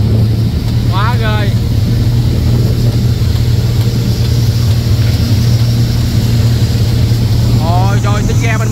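A fishing boat's engine drones loud and steady while racing on the open sea, with wind buffeting the microphone and brief bursts of talk near the start and end.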